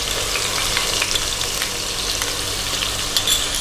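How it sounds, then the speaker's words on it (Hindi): Onion paste fries in hot oil with whole spices for egg curry, making a loud, close, continuous sizzle with crackling pops and no voices. "पाँच से 7 मिनट हमने प्याज को फ्राई किया"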